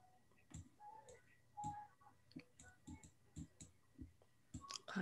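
Keys on a computer keyboard are pressed one at a time, giving a string of sharp, separate clicks close to the mic in an irregular rhythm, with nothing else heard.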